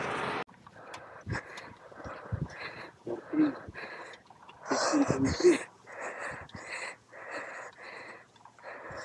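A cyclist on a long steep climb in the DRT area pants hard, with rapid, ragged close breaths and wheezy gasps repeating throughout, loud against faint outdoor background.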